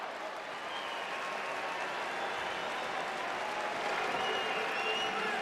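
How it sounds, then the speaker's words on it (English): Crowd at an MMA event in Ohio clapping and cheering in a steady, dense wash of applause that swells slightly toward the end, with no speech over it. "up clapping, cheering on his good friend"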